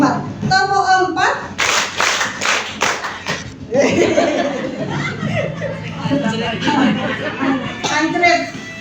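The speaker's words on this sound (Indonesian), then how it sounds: "Yang kompak ya Bu, saya ulangi yang tepuk 4." An audience at a motivational seminar claps in short, coordinated rhythmic patterns, sharp bursts of handclaps separated by pauses, mixed with chuckles, chatter and a leader speaking between the rounds.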